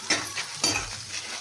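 Onions are stirred in a kadhai over a stove, with two or three quick scraping strokes over a soft sizzle. The sound is close and fairly quiet, and there is no talking.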